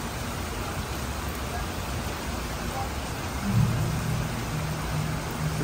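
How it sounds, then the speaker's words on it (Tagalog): Rain falls outside a shopping mall in Malabon, a soft, steady hiss with a faint low rumble rising briefly near the end and no clear voices. "umuulan na po ngayon sa labas."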